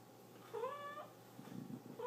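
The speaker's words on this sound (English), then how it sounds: "You're so annoying with your meow." A cat gives a single clear, drawn-out meow, then starts a second one at the end, both faint against a quiet room.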